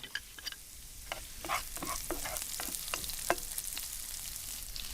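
Salted shallots fry in a pan, giving a soft, crackly sizzle with scattered pops and spatters, close by and fairly quiet, with no voices.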